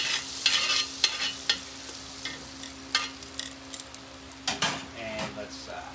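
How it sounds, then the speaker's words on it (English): Butter sizzles in a frying pan while a utensil repeatedly scrapes and clinks against the pan, giving a low hiss broken by irregular, close stirring strokes. "So let's butter our pan up."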